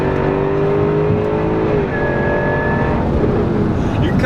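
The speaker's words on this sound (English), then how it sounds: "you can kind of hear the whine from the supercharger" A Jaguar F-Type R AWD's supercharger whines while driving, a thin rising tone over a loud, steady engine drone and road noise from inside the cabin.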